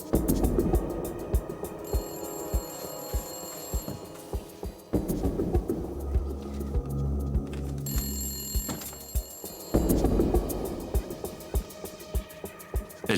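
Telephone bell ringing in repeated bursts, loud and close, over a throbbing low background with no speech.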